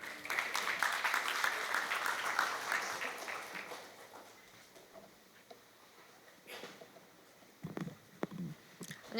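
An audience applauds before the vice president's lecture at an AI forum in Daegu. Dense clapping rings out for about four seconds, then thins into scattered claps and quiet room noise.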